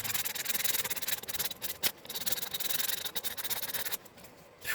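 Cured JB Weld is rubbed off an aluminum can with acetone, making a continuous fast scrubbing sound of rhythmic strokes, close and fairly quiet.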